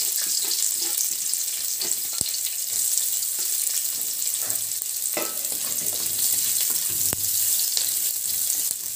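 Onions fry in hot oil in a pan for a Tulu-style jackfruit pachhil, giving a steady, moderately quiet sizzle with occasional stirring clatters and scrapes throughout, with no voices.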